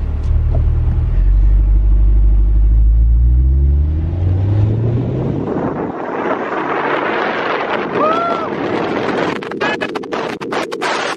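A 2020 Chevrolet C8 Corvette in track mode revs up in a rising pull, the engine note climbing over several seconds before giving way to a loud roar mixed with heavy wind noise.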